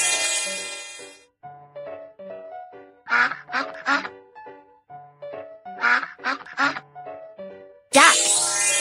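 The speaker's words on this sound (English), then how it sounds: "Duck." Duck quacking in a kids' animal-sound guessing game: two bursts of several rapid nasal quacks between light musical chimes, up close and clear.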